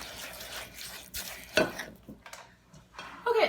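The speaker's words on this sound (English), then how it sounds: "We'll just stir until everything is combined." A spoon stirring a soupy mix of cornmeal, oatmeal and flour for bird suet, with intermittent scraping and clinks against the bowl, soft and close.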